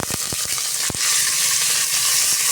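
Chopped garlic crackles and sizzles steadily in hot oil with curry leaves, near and loud, with a few sharp stirring knocks early on and a denser, continuous fry after the garlic goes in.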